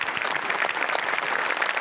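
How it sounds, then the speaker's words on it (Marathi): Audience applause fills the room after a comedy sketch on a Marathi comedy stage show, a dense, steady clapping that holds at an even loudness throughout without a break. "जोरदार टाळ्या झाल्याच पाहिजेत"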